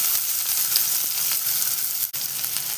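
Onions hit a pan of hot oil for carrot rice and fry with a loud, dense, steady sizzle, a short sharp knock near the end.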